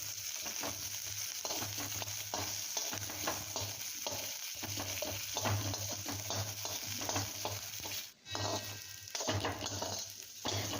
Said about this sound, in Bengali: তেলের মধ্যে জিরে দিয়ে দিয়েছি আর পেঁয়াজ কুচি দিয়ে দিলাম আর লঙ্কা